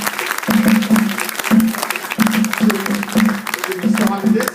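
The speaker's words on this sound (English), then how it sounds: "Dr. Leonard Jeffries, give him a round of applause" Applause from an audience at a celebration event, with clapping running throughout as a speaker talks loudly over it.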